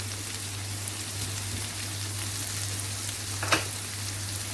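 Peppers, garlic and onion sautéing in a pan, a constant dense sizzle like light rain with a low steady hum underneath and one short scrape of stirring.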